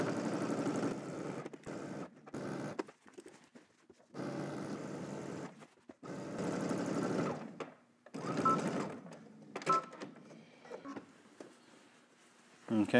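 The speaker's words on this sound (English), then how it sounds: "So now let's head to the machine and we're going to stitch all the way around using 5/8 seam allowance." A sewing machine stitches a seam on a pair of shorts, running in several close bursts of a second or two, broken by quieter stretches of handling noise and scattered clicks.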